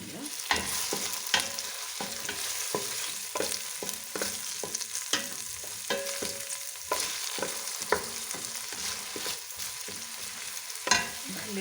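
Seafood soup ingredients fry in a pot, a steady sizzle running beneath frequent scraping and clattering strokes of a spoon stirring, close and continuous with no talking.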